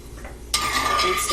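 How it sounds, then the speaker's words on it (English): A spoon stirs a tablespoon of cornstarch into liquid in a skillet, starting abruptly after a brief quiet moment as a close, continuous metallic scraping with a faint ringing tone. "I'm going to add 1 tablespoon of cornstarch to it. And we're going to stir it up"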